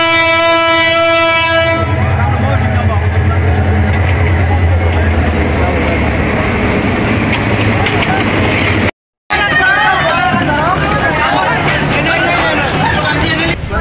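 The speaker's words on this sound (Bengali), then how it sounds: "তো এখান থেকে ট্রেন ছাড়লো।" A Bangladeshi local train pulls out of a railway station with a loud sustained horn, then rumbling wheels and rattling carriages, close and loud over crowd chatter.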